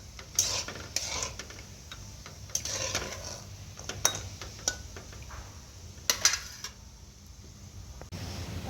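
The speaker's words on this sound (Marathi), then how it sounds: "तर आता हळकोण भाजते" Turmeric roasting in a pan for homemade spice masala: scattered light clicks, taps and scraping stirs of a utensil against the pan, quiet and irregular over a low steady background hum.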